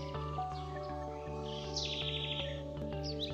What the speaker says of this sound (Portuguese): escutando os cantar dos pássaros para vocês